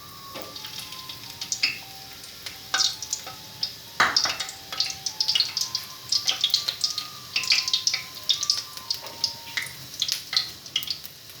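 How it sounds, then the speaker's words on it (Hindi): Onions dropped into hot ghee sizzle and crackle steadily, with scattered sharp pops and occasional stirring clinks throughout, close and fairly loud with no voices. "घी हमारा गर्म हो चुका है। अब इसमें प्याज ऐड करते हैं। प्याज को हल्का फ्राई कर लेते हैं।"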